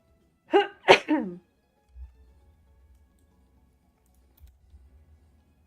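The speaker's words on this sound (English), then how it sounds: "It was actually a cough because my throat is being really weird." A person coughs twice in quick succession, sharp and close in a quiet room, followed by faint soft handling noises.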